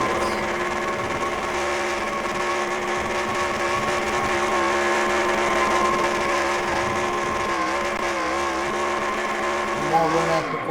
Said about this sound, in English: More burnouts before heading to victory lane.